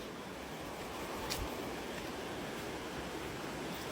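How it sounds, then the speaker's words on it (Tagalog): Papattay Falls in Buscalan rushes as a steady, broad wash of falling water, continuous and fairly faint with some wind on the microphone. "Ando na yung waterfalls, oh."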